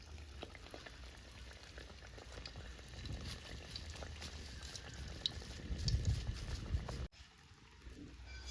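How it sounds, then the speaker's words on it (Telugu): Masala vada fries in hot oil with a faint, steady sizzle and bubbling, swelling a little louder near the end before an abrupt shift to quieter background sound. "వడ వేసుకుంటుంది."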